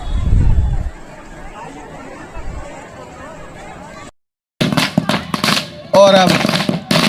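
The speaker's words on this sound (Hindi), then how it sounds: "दिव्य आतिशबाजी शुरू हो चुकी है।" Festival fireworks at Barsana during the boat-ride celebration: sharp cracking bursts and crackles crowd the later seconds, loud and close, following quieter outdoor crowd noise with distant murmur.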